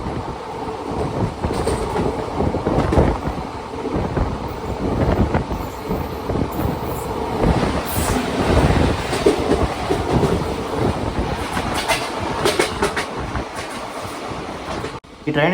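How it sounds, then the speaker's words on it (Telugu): An express train rumbles and clatters loudly as it overtakes a goods train on a parallel track, steady wheel and carriage noise throughout with rattling bursts. "మన ట్రైన్ అయితే గూడ్స్ ట్రైన్ ఓవర్టేక్ చేసి వెళ్ళిపోయింది"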